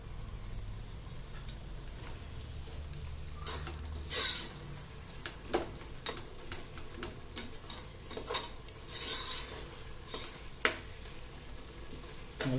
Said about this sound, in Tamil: எல்லாம் சேர்ந்து ஒன்றா வதங்கணும் நல்லா.